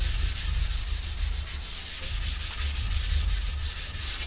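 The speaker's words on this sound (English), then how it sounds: "Sanding pretty decent." Sandpaper rubs steadily across a wooden skateboard deck held flat, a close, continuous rasping with a faint back-and-forth pulse that carries on without pause or speech throughout.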